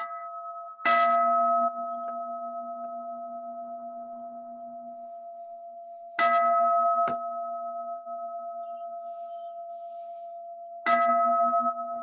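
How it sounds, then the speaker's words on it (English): A meditation gong is struck three times at a slow, even pace, each strike ringing out loud and bright before settling into a long, steady humming tone that sustains between hits. "the gong has called us to collect our energy and attention here and now"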